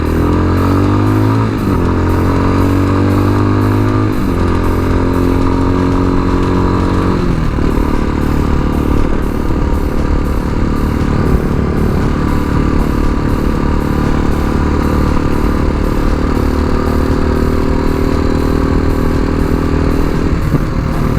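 A Tao Tao TBR7 motorcycle engine runs loud and close for the whole stretch, pitch rising and falling through gear changes and revs under steady wind noise, with no talking.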